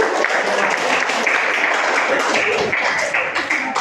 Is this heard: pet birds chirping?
no